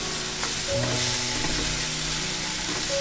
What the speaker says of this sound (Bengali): খুব ভালোভাবে একটু নেড়ে চেড়ে মিশিয়ে নিতে হবে